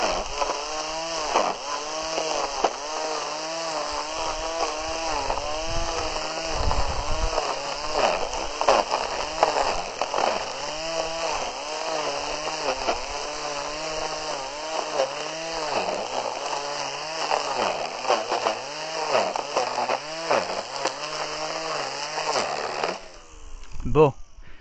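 Battery-powered 18V grass trimmer cutting through thick tufts of grass, a steady high motor whine that dips and strains under load, with someone talking over it throughout and the motor winding down at the end.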